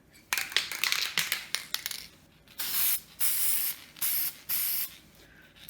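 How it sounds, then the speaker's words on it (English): A can sprays a base coat onto a Christmas ornament, starting with quick rattling taps and short bursts, then settling into four long, loud, steady hisses separated by brief pauses. "I just spray it all over."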